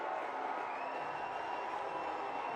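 A football stadium crowd in Lexington roars in a steady, dense wash of cheering, loud and unbroken throughout, with no distinct individual voices standing out.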